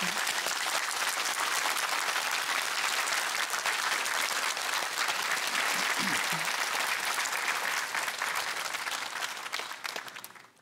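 A studio audience applauds a professor at a televised lecture, with dense, steady clapping held at full strength for about ten seconds before it tapers off at the end.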